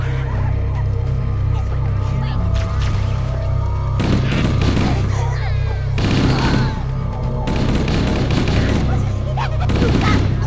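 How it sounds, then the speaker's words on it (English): Halo: Combat Evolved Anniversary combat with heavy booms and rapid bursts of gunfire in several loud waves, an unbroken wall of battle noise throughout. "Mysterious explosions killing the grunts and the jackals."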